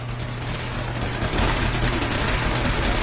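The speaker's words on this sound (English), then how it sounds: "Thermal engine fueled, primed, and standing by for your command" A thermal engine in a video game hums and rumbles steadily, a dense low mechanical drone like a large idling machine, swelling slightly louder partway through with no voices over it.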